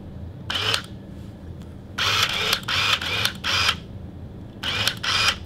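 A Polaroid SX-70 SLR 680 instant camera fires and runs its motor, giving several loud, close whirring bursts in quick groups, with brief quiet gaps and a low background hum.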